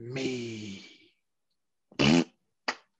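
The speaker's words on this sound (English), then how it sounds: "Good old fart edit." A comedic fart sound effect added in editing: a long buzzing rasp, then after a pause a short loud blurt and a quick final puff.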